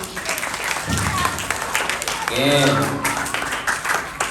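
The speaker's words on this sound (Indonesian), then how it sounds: "Tepuk tangan dulu dong." Audience applause during an Islamic religious talk about Eid al-Fitr practices, a steady wash of clapping that swells briefly, with a speaker's voice over it.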